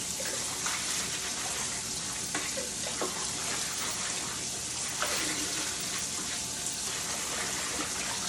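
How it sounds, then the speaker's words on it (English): Collard greens being agitated in a sink full of water to loosen dirt, giving a steady rushing wash of water with soft sloshes and splashes throughout. "agitate the greens. Try to make sure all the dirt falls to the bottom of the sink."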